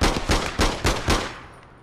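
Gunshots in the online shooter APB Reloaded: five loud, close, booming reports fire in a steady rhythm, each fading quickly, with no talk over them.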